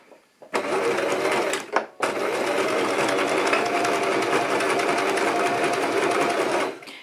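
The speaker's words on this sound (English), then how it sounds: "you're just going to simply straight stitch right across the top here" A sewing machine straight stitching across the top of a scrunchie, a loud close steady whirring run that starts, halts briefly after a second, then continues evenly for about five seconds before stopping.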